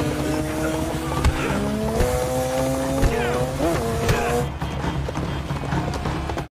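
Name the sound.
horse hooves in city street with motorcycles, John Wick 3 scene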